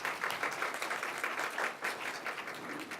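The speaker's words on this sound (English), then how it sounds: "Let's give her a round of applause, guys." Audience at a county 4-H awards program applauding, a steady patter of many hands clapping at moderate distance, fairly quiet and continuous for the whole stretch.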